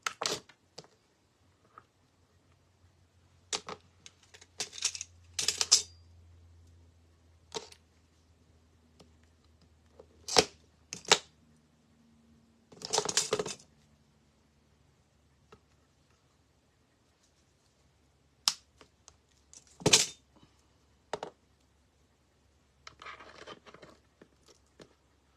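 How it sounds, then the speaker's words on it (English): Sharp, isolated snaps and crunches of mosaic glass tile pieces being cut with a cutter, coming in short bursts separated by long silences, close and crisp, with a brief faint scratchy rustle near the end. "Let me see if I can cut one a little bit bigger than this one."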